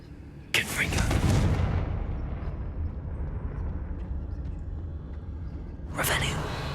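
A Confringo fire spell in Hogwarts Legacy erupts with a sudden loud blast, then a long rumbling roar that slowly settles before a second sharp burst near the end.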